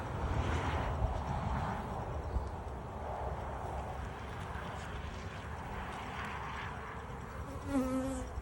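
Honeybees shaken in a jar with sugar during a mite check give off a steady, agitated buzzing drone, close and quiet, sustained throughout.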